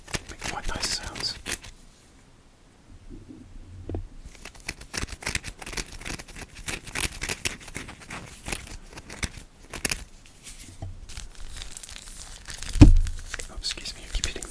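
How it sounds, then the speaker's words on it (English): Rubber plastic rope knocks and brushes against a microphone in close, crinkly scuffs and bumps, including one sharp thump near the end, with whispered talk mixed in. "I keep hitting the mic. It's just the rope. It's like a rubber plastic rope."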